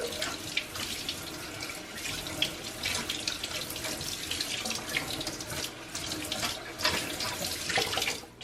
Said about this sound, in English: And then I'm just going to rinse it in the faucet.